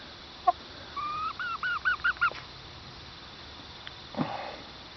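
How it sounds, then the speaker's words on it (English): Young roosters and chickens squawking nearby: a run of rapid hoarse honking calls in a quick series, then a rougher single squawk after a pause. "They're starting to squawk like chickens."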